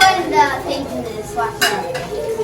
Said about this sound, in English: at the sink, doing the dishes